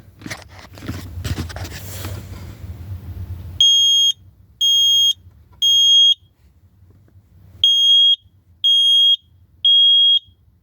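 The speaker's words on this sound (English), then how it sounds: "smoke alarm we have installed here on the wall" A wall-mounted Kidde smoke alarm under test: after a stretch of scraping, rustling handling noise, it emits shrill, piercing electronic beeps in groups of three, repeated twice, loud and close.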